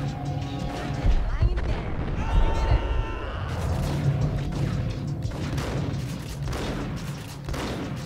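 Gunfire in a video game shootout, with dense booms, crashing hits and bursts of shots under an ongoing narrating voice and game dialogue.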